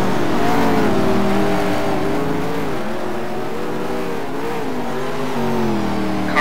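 A race car in a budget amateur racing series comes through a corner with a loud, continuous engine drone that shifts in pitch as it prepares for a long straight, steady and close throughout with no talk.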